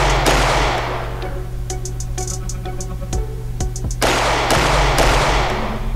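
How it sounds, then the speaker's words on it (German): Several loud, sharp gunshots from an ambush crack over a steady low hum, with quick whizzing sounds like bullets passing between the bursts. "Einen Moment später fliegen ihnen schon die ersten Kugeln um die Ohren."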